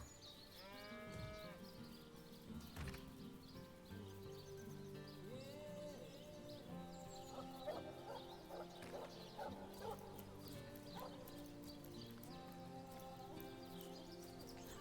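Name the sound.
sheep bleating in Divinity: Original Sin video game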